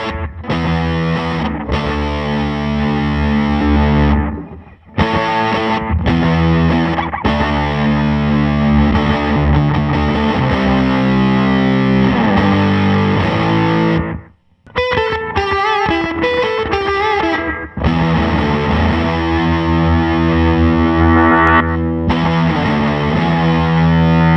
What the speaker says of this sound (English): So far, it has been the unaltered fuzz, but let's see what it sounds like when we flip on the preamp.